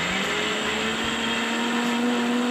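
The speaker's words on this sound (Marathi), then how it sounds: "मिक्सरमध्ये आपण बारीक करून घेऊ।" A kitchen mixer grinder grinds sweet corn kernels in a loud, steady motor whine that holds throughout without any speech.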